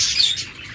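Caged cockatiels and lovebirds give a quick burst of high, bright chirps, close and fairly loud, over a faint low background.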